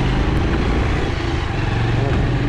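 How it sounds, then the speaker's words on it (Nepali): A motorbike engine on a damaged, sinking mountain road, a loud, steady low drone held close throughout with no pauses or voices. "बाइक आउँदैछ"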